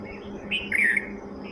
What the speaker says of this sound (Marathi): या ठिकाणी आपल्याला बुलबुल पक्षीची जोडी दिसते आणि त्यांचा आवाज